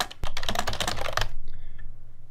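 Fast typing on a computer keyboard, a quick burst of close, crisp key clicks in an uneven rhythm that stops abruptly, followed by a faint short electronic tone.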